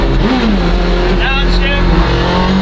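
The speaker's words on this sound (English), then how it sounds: "The shifting in this thing is so cool. It's like a sequential shifting gearbox." A mini truck engine revs and shifts through a sequential gearbox, its pitch climbing and dropping between gear changes, heard from inside the vehicle under a person's voice.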